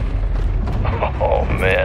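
Mortar explosions shake a Call of Duty MW2 battlefield, deep rumbling booms rolling continuously and loud, with sharp crackling debris and voices calling out over the din.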